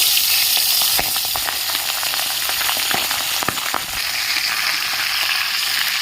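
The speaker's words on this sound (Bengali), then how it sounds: "মাছগুলো আমি ভেজে নিচ্ছি" Pabda fish frying in hot oil in a wok, a continuous bright sizzle with scattered pops and crackles, close and steady, with no talking.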